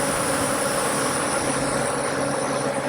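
A dense swarm of bees hums in one steady, loud, unbroken drone. A thin high whine sits above a broad rough buzz, with no voices.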